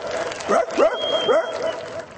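A man mimics a rich household's dog, producing three quick, pitched, yappy barks followed by a softer whine, close and clear.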